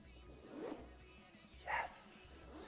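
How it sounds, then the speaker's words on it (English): The zipper on a good-quality clutch bag is pulled in two short, crisp strokes, close to the microphone and fairly quiet. "I love the sound of a good quality zipper."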